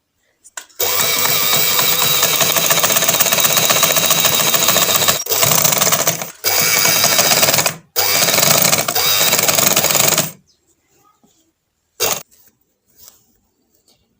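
A sewing machine runs loud and steady, stitching double piping onto fabric in three long bursts with brief pauses between, then stops; a short faint mechanical sound follows after a silence.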